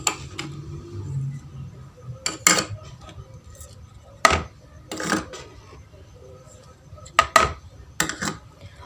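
Spices being mixed into milk cream and yogurt in a bowl: sharp, scattered clinks and taps of a spoon against the dish, several separate strikes with quiet gaps, close and fairly crisp.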